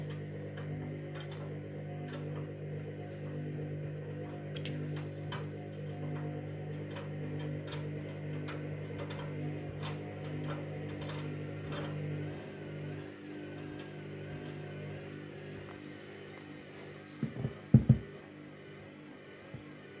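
A Candy washing machine on a bedding intermediate spin cycle gives a steady low motor hum with a regular ticking through it for most of the stretch, then a few sharp knocks near the end.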